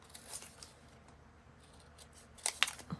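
Scissors snip around a paper tag cut from Tim Holtz paper during an ephemera craft session, giving a few quick, crisp clicks near the end after a stretch of quiet room tone.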